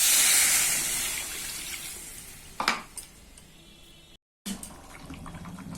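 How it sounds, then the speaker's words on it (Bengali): Water poured into a cooking pot while making a prawn curry: a loud rushing hiss at the start that gradually thins out, then a sharp clatter and a brief cut-out before quieter kitchen noise resumes. "এবার তাহলে জলটা দিয়ে দেবো।"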